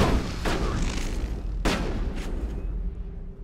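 Two sharp gunshot blasts from the sci-fi shooter Mass Effect, roughly a second apart, each with a booming low tail over a dense background game rumble.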